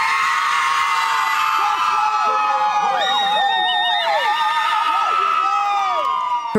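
Family and a crowd cheer loudly for a graduate at a Texas State University graduation, a dense, sustained roar of whoops, high yells and shouting voices with no pause.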